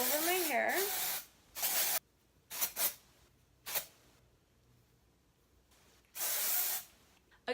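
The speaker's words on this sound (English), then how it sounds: "I just spray this literally all over my hair." Dry shampoo is sprayed over hair in several sharp aerosol bursts, short and longer hisses separated by quiet gaps, close and fairly loud; a brief voice is heard at the start.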